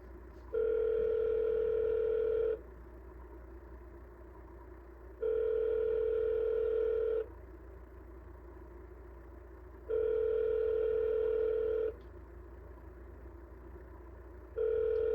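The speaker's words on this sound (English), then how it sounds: "This whole video has been nothing but ringing." A phone's ringback tone on an outgoing cold call purrs in steady two-second bursts separated by pauses, repeating about four times with no one answering.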